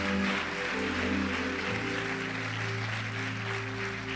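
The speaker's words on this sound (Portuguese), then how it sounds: "Dê o melhor aplauso que você puder para ele, bem forte" A church congregation claps loudly and continuously together, a dense, sustained wash of applause heard alongside steady organ or keyboard tones.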